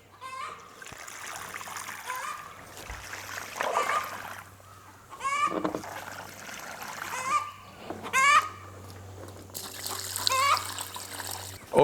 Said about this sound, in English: And we'll just pour this fertilizer down into the soil.